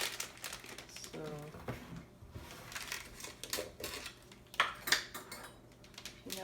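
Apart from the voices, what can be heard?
scooping peanut butter and Nutella into a Ziploc bag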